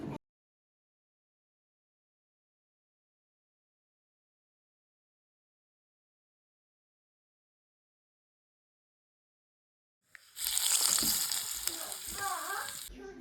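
Tempering oil for a beetroot curd salad sizzling in a pan, a sudden loud crackling hiss that starts after a long silence and keeps spitting steadily near the end, close by, with a faint voice beneath.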